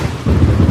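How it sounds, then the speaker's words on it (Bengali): Light drizzle falls around a village tea stall while a low thunder rumble swells after a brief moment and holds, loud and close, for the rest of the short stretch. "চারপাশে টিপ টিপ বৃষ্টি ঝরছে"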